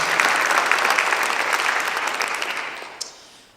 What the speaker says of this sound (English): They deserve a round of applause too.